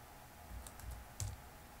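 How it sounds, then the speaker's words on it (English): A Linux terminal command being typed on a computer keyboard during a disk partitioning setup, a few faint, sparse keystrokes over quiet background hiss. "we're going to type in the command parted space dev"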